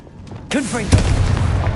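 A Confringo blasting spell in a Harry Potter video game goes off as one loud explosive boom after a brief whooshing build-up, then rumbles and crackles briefly. A voice can be heard along with it.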